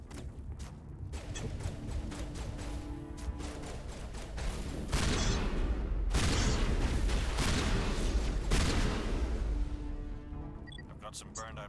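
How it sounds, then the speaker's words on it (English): Shotgun blasts fired in the video game Mass Effect: several loud, sharp bursts land among steady game noise and combat sounds, with a voice talking throughout. "So this is the shotgun"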